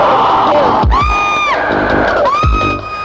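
In a Hindi horror film, a woman lets out piercing, drawn-out screams, two loud wails separated by sharp thuds, over a noisy dramatic backdrop.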